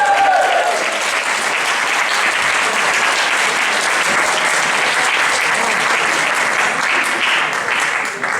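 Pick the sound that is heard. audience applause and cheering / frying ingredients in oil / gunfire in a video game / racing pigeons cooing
audience applause and cheering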